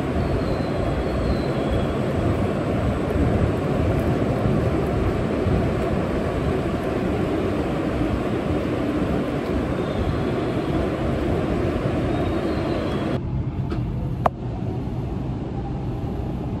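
Steady low rumble and rolling hum of the Kamome 43 limited express train in motion, heard from the non-reserved car, continuous throughout, with a faint click near the end.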